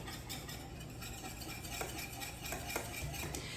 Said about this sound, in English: You do want to whisk it fairly vigorously because you don't want that egg to melt, to scramble.